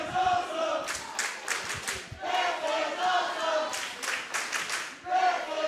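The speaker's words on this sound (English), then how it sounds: "And you hear the crowd" A wrestling crowd at the Heart of the Southern Sixteen tournament roars and shouts in surging bursts, swelling and dipping several times, with clapping mixed into the loud, close din.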